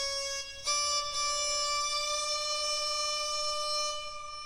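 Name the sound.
sarangi patch on a pitch app, glides with round and snap off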